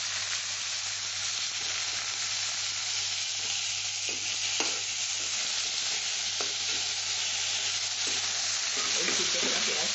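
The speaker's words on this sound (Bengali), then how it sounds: "এতে আমি এই পেঁয়াজ যে সিদ্ধ করা পেঁয়াজটা দিয়ে দিচ্ছি" Boiled onion frying in a little ghee in a wok, a loud, steady sizzle throughout with occasional scrapes and stirs, growing slightly busier toward the end.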